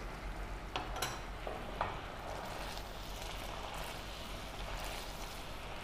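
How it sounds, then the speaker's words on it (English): A pan of fish curry swirled over a gas flame gives a steady low sizzling, sloshing hiss close by, with a couple of brief scraping knocks early on. "If you're not able to remove it, just twirl the pan"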